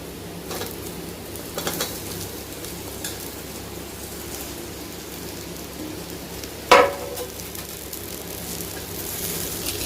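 Raw figs frying in masala in a pan while being stirred, giving a steady low sizzle with scraping sounds throughout and one sharp clatter of the spoon partway through.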